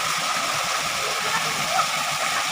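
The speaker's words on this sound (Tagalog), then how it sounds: "Ayan, ang ganda guys ng falls dito." A small waterfall in a cave in Atimonan, Quezon Province, pours in a steady broadband rush of falling water, continuous and fairly close with no breaks.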